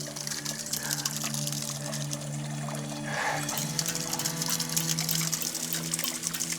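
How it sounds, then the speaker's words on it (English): Fresh spring water trickles out of the ground in the Grenada jungle, a steady close burble and dribble that runs through the whole stretch with a constant background hum beneath it. "There we go. Spring."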